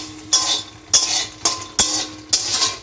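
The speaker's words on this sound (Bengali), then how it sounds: "এই যে মাখনাগুলো কড়ার মধ্যে দিয়ে দিয়েছি, এবার একটু বাটার দিয়ে দেবো, দিয়ে এটা মাখনার সাথে একটু ভাজবো।" Fox nuts tossed in butter in a wok over a slow flame, with five or six sharp clinks and scrapes of a metal spatula against the pan, evenly spaced at close range over a low sizzling background.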